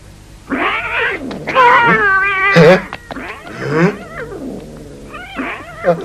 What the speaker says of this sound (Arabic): وصل يونيتي ومعه القطط